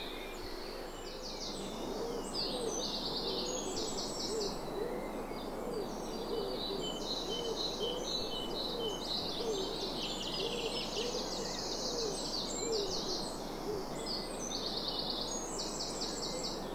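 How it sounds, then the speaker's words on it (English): A green woodpecker gives a series of repeated calls, distant and fairly faint, over a steady hiss of outdoor background noise. "So what we just heard then was a green woodpecker."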